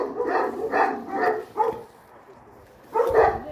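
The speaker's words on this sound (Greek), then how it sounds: "Εδώ κάτι σκυλιά γαυγίζουν." Several dogs bark in repeated bursts somewhere along a street in Penteli, Greece, with a pause before a last loud volley, moderately near and with no talk over them.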